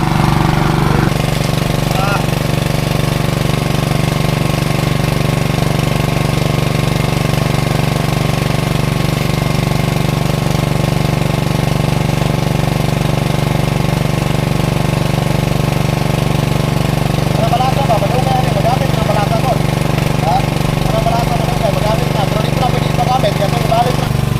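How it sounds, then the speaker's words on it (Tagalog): An engine driving a water pump runs on a construction job, giving a loud, steady, continuous drone with a faint knocking texture that holds unchanged from start to finish. "Kulang-kulang 30 minutes na nakaandar yung makina pero hindi pa rin naubos yung tubig."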